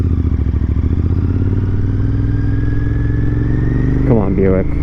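Engine of a Buick car on the road, a loud, steady rumbling drone with clattery vibration heard from inside, and a pitch shift near the end.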